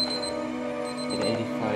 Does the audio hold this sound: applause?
no